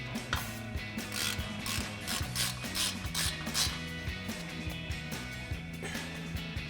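Ratchet with a 19mm socket tightening caliper bolts on a 2007-2021 Toyota Tundra during a brake job; a fast, steady run of close, loud clicking continues throughout the clip.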